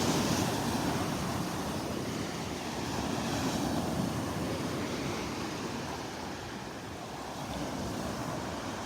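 Churned-up ocean surf breaks along a beach in North Naples, Florida, a steady roaring wash of waves with wind noise across the microphone and no voices.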